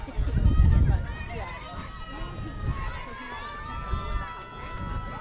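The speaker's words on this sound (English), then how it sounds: "There's that wind picking up again a little bit. You can hear it as it blows directly into the crowd mic." Wind gusts straight into a crowd microphone at a high school softball game, Sheyenne versus Fargo South, with a heavy low buffeting burst near the start, then lighter rumble beneath someone talking.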